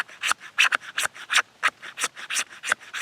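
Knife blade shaving resin-rich fatwood outdoors in stormy weather, a quick run of close, dry rasping strokes, roughly four per second, steady and fairly loud with no talking.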